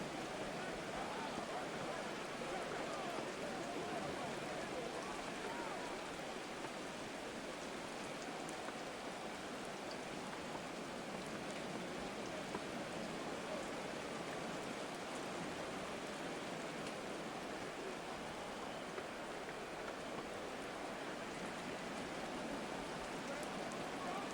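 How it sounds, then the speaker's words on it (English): Rain falls in the Madden 24 video game during a Buccaneers vs Patriots football match, a steady even hiss that holds unchanged for the whole stretch with no voices on top. "The rain set to continue as we are underway in the second half."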